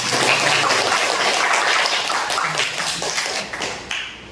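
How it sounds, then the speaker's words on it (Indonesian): Applause from an audience at a writing lecture on articles, a dense, steady patter of many hands clapping close by that fades slightly toward the end, with no talk over it. "Tepuk tangan untuk semuanya."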